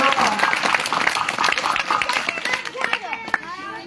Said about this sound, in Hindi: बच्चों के लिए तालियां हो जाएंगे